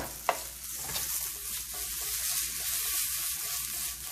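Beef sizzles and crackles steadily in a hot pan as flour-coated meat is stir-fried with garlic for beef stew, with a brief clink of a utensil near the start and constant frying underneath.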